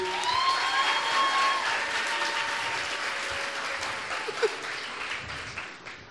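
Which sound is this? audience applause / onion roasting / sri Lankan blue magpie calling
audience applause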